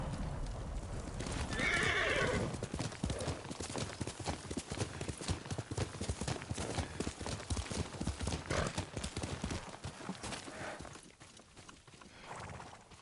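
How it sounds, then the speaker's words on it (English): A horse gallops and neighs in the samurai video game Ghost of Tsushima: a loud whinny near the start, then steady, fast hoofbeats that carry on at close range before easing off toward the end. "Yuriko's horse. She can't be far."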